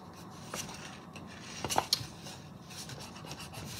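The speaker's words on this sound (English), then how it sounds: "you want to sketch a little line like this" A pencil sketches a short line on a sketchpad for a drawing of a face. The scratching is soft and close, with a few brief strokes and no voice.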